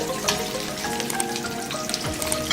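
Aloo tikki potato patties frying in a pan until brown, giving a steady close sizzle and crackle with faint scattered pops throughout, no voices.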